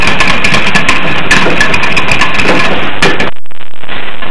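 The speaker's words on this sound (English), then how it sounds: "we want to take our whisk and we want to beat it till it's nice and creamy" Cream cheese icing for cinnamon rolls is beaten with a whisk: a loud, steady whirring and scraping that runs without pause for over three seconds, then cuts off abruptly, leaving a quieter hum.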